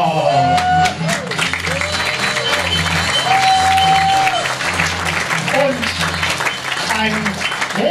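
An audience claps loudly through a live travesty gala show opening, with steady applause layered over pulsing stage music and bass.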